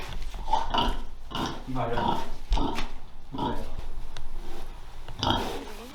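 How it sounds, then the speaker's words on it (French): Pigs on a farm grunt and snuffle repeatedly at close range in a steady series of low, rough oinks, with people speaking French over and between them. "Vous voulez aller voir les cochons?"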